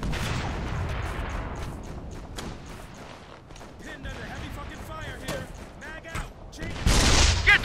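Gunfire in the video game Operation Flashpoint: Red River, with scattered shots and thumps under continuous game chatter and voices, building to a louder burst near the end.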